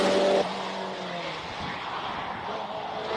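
An Alfa Romeo Giulia race car launches off the line at a Cape Town hillclimb, its engine roaring at first and then fading into a steady, receding drone with faint tire noise.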